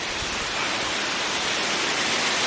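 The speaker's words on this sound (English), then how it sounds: "This waterfall is called as Dongkruksa, and here it is." Dongkruksa waterfall, the sixth tier of Erawan Falls in Kanchanaburi, Thailand, pours in a dense, continuous hiss and rush, loud and close, with no voices over it.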